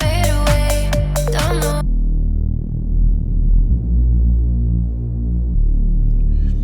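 A detuned synth saw-wave bass with nine unison voices plays a brief busy phrase, then holds a thick, throbbing low drone that wobbles steadily for several seconds, loud and alone.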